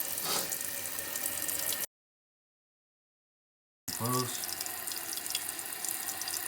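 Water rushes steadily into a toilet tank as the float rises after a repair, a continuous hissing flow broken by a silent gap, with a brief spoken word near the end.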